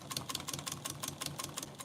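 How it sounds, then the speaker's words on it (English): A Pfaff 545 walking-foot straight-stitch sewing machine with high lift and reverse stitches in a rapid, steady mechanical rhythm of close, evenly repeating clacks, with no talk. "This is a Pfaff 545 sewing machine."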